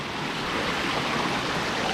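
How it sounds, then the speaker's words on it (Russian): Water running steadily in a stream beside a waterfall in Crimea, a constant, full rushing wash that stays even and close throughout. "вот как водичка бежит"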